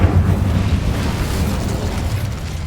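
Incendio fire spell cast in Hogwarts Legacy, a steady roaring, crackling burst of flame that holds loud and dense for nearly three seconds without letting up.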